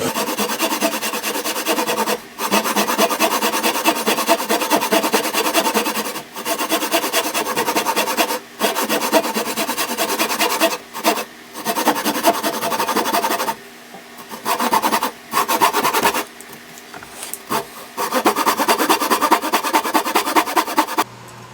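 A hand saw cuts through wood for a small tabletop easel, with loud, close rasping strokes in a steady rhythm broken by brief pauses.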